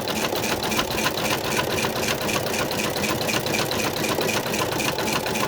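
An embroidery machine stitches a satin border around a paw on an in-the-hoop Christmas stocking, running as a fast, steady mechanical chatter with even rhythmic ticking throughout, loud and close with no talk.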